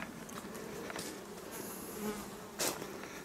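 Dense, continuous buzzing of many honeybees close by at hives and nucleus boxes, with individual insects droning past the microphone now and then.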